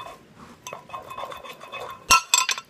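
Hard candy syrup for grape lollipops is stirred in a pot, soft scraping and light metallic taps building to a few sharp clinks of the utensil against the pan near the end.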